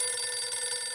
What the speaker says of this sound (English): it's an old-timey rotary phone. I gotta answer it.